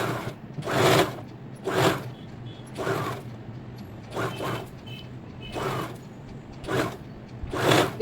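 A sewing machine stitches the fabric of a coat-collar blouse in repeated short bursts, each run of stitching about half a second long with brief pauses between, close and fairly loud with no talk.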